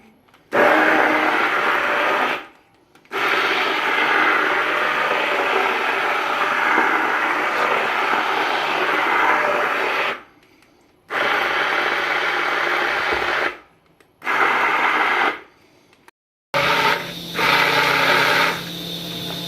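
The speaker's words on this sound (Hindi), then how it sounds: "मैं इसे ये हैंड ब्लेंडर" A hand blender whirs loudly through cooked lentils for chicken haleem in several long bursts, stopping and restarting with brief silences between runs.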